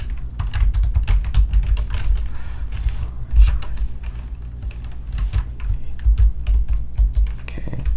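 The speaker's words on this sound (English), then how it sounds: "Okay, let's start typing this shit in." Rapid typing on a computer keyboard, a dense run of close, crisp key clicks with uneven rhythm and occasional heavier strokes, with no talking.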